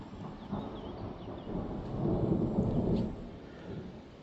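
A moderate thunderstorm with strong gusts in Isère: low, rolling thunder swells and fades in the distance over steady rain and wind noise, with no voices.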